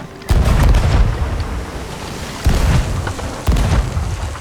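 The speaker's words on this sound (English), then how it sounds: "Grizzly, that fucking cannon you just fired was fucking sick." Ship cannons firing in a naval pirate battle video game, three heavy booming shots spaced a second or two apart over a rushing sea-like background.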